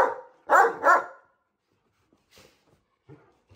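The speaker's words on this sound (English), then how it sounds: "I like to bark. I'm good at barking." Two loud, close Great Dane barks in quick succession, followed by quiet, faint sounds trailing off.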